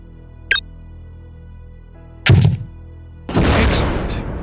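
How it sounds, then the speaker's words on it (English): A grenade launcher fired at a target in the video game Soldier of Fortune 2: Double Helix: a short click, then a hollow launching thunk, followed a second later by a loud, sustained blast that rumbles and fades. "Now, destroy the target with a grenade."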